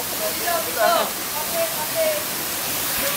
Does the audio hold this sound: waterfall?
yes